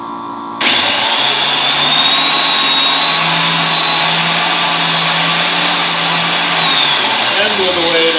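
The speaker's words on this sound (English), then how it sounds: "Okay, so you'll hear me grind this thing pulsing." A valve seat grinder regrinding an engine cylinder's valve seat starts up and runs steadily and loudly for several seconds with a whirring drive motor, then slows toward the end.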